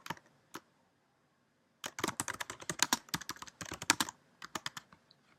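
Quick clacking keystrokes on a computer keyboard while renaming a file, a couple of isolated taps followed by a fast irregular burst of typing, close and fairly quiet.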